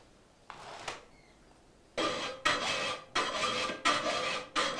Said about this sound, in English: First, he does a rough filing.